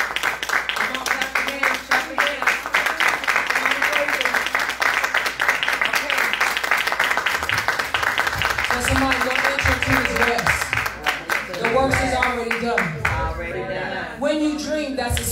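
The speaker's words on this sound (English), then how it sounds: "come on and clap your hands." Worship congregation clapping hands in rhythm at a church service, steady repeated claps under continuous music and voices, with singing or speech carrying on throughout.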